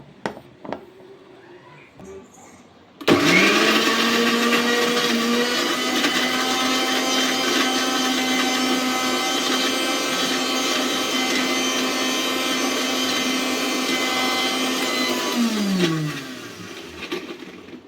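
A mixer grinder runs at full speed, grinding tomatoes into a puree. The jar's steady, loud whine holds for about twelve seconds and then winds down. Before the motor starts there is only quiet room noise.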